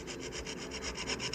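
Brisk rhythmic scrubbing on a grimy gravestone, about a dozen quick back-and-forth strokes in a steady beat, close and fairly quiet with no voices.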